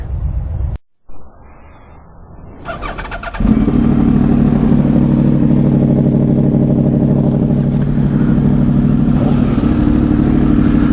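A Suzuki GSX-R Gixxer motorcycle engine starts with a brief crank, then settles into a loud, steady, close-up idle that rumbles on without letup.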